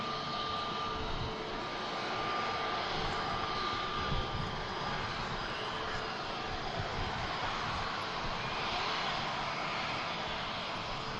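A brand-new Jet2 Airbus A321neo jet at Manchester Airport gives a steady, loud engine roar with a faint high whine, holding evenly throughout without pauses.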